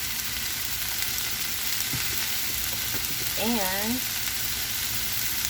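Onions and mushrooms cooking in a pan, a continuous dense sizzle running throughout, with one short spoken word and a brief whistling or squeaking sound near the end.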